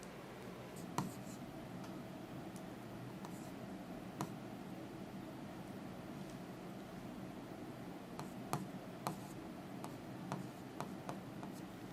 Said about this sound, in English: let me draw the diagram again